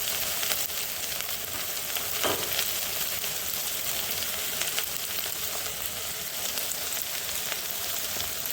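Okra fries in oil over medium heat with a steady, even sizzle and fine crackling that holds constant, with no voices.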